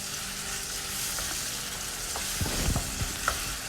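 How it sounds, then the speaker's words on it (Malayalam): Chopped tomatoes frying in butter in a pan, a dense, even sizzle throughout with some louder spoon taps and stirring knocks near the end, close up and without talk. "അതിലേക്ക് നമുക്ക് രണ്ട് വലിയ തക്കാളി ചെറുതായി കട്ട് ചെയ്ത് ചേർത്ത് കൊടുക്കാം"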